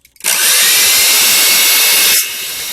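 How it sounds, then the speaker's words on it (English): An electric hand mixer blends potatoes with herbs, salt and milk, a loud steady whirring drone that starts abruptly and runs for about two seconds before cutting off, leaving quiet kitchen noise. "Let's get this blended up."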